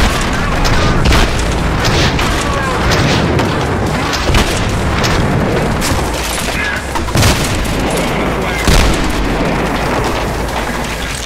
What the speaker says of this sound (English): an incredibly satisfying shotgun that can turn people into peanut butter and jelly without the peanut butter